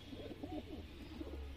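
A white-tailed pigeon coos softly in a short series of low, rounded notes, close by but faint, with no voices present.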